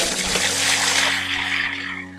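Water pours into a liquid soap paste made with dissolved Nutrisol, a steady close splashing rush that thins out toward the end, with a low hum underneath.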